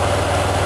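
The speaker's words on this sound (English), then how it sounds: "she's warmed up and idling in at about" A warmed-up engine idling at about 1200 RPM gives a brief, steady low rumble, close and even, with no voices.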